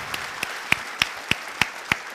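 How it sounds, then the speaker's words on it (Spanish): Applause at a conference greeting a co-organizer: about seven sparse, evenly spaced hand claps, sharp and moderately faint, with no voices over them. "Un aplauso para Lourdes."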